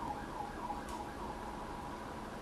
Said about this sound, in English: You can hear the ambulance coming to get me in the back